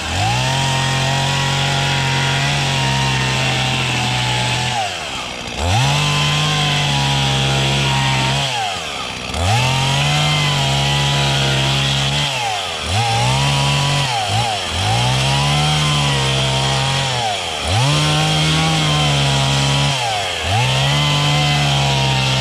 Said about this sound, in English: I'm just gonna cut them into little planks so we can have some salmon on a cherry plank